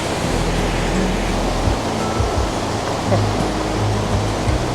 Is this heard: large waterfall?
yes